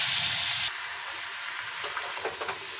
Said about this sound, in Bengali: এবার ওই তেলের মধ্যেই একটা গোটা তেজপাতা আর সামান্য গোটা জিরে ফোড়নে দিয়ে ফোড়নটা ভেজে নেব